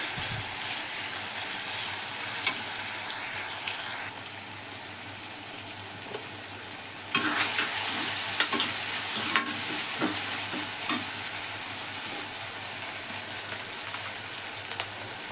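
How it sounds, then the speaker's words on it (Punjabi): Onions and tomatoes sizzle over medium heat in a pan of desi ghee for Maggi noodles. A steady frying hiss carries through, with frequent scraping, clinking stirs. The sizzle grows louder for a stretch midway. "ਫਿਰ ਇਹਨਾਂ ਆਪਾਂ ਹੌਲੀ ਹੌਲੀ ਹਿਲਾਵਾਂਗੇ 5 ਮਿੰਟ ਆਪਾਂ ਮੀਡੀਅਮ ਆਂਚ ਤੇ ਰਹਿਣ ਦਵਾਂਗੇ"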